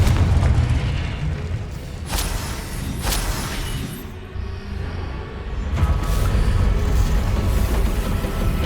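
Confringo blasting spells exploding in Hogwarts Legacy, several heavy booming blasts with sharp bursts and rumbling tails, loud and overlapping, with no one speaking.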